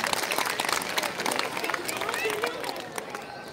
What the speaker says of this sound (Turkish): Kendisine bir alkış lütfen